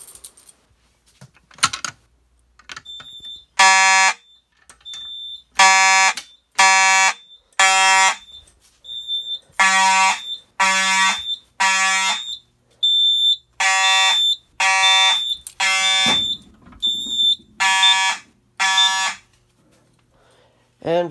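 A fire alarm system sounding during a panel test, giving loud repeated electronic horn blasts in a steady on-off pattern that continues for most of the stretch. A brief low rustle and a short vocal sound break in near the end.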